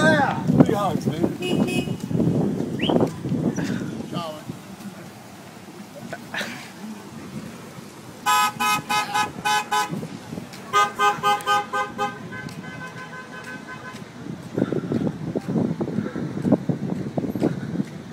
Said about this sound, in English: 3 honks, dude.